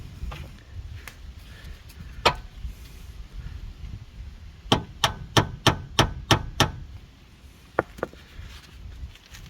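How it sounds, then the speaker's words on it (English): A hammer taps a metal outer track rod into a Hyundai i30 steering knuckle, first a few scattered knocks, then a quick run of about seven evenly spaced strikes, followed by a couple more. "just tap this in a bit with a hammer to get it back in this hole on the steering knuckle"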